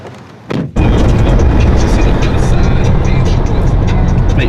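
A car driving on the road, heard from inside as a loud, steady broadband rumble of road and engine noise that starts abruptly after a brief quieter moment and continues without a break.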